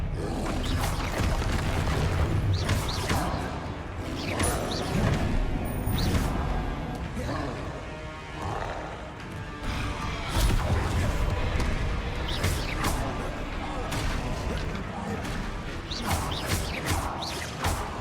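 Confringo spell blasts in Hogwarts Legacy combat land as repeated crashing booms and whooshes amid mechanical clatter, loud and busy across the whole stretch, with irregular bursts of impact.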